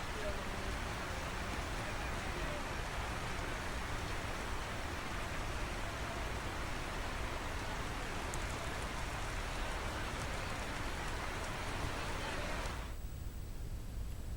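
Steady, dense rain falls continuously, a broad hissing wash of drops on surfaces that stays even and fairly close before cutting off abruptly near the end.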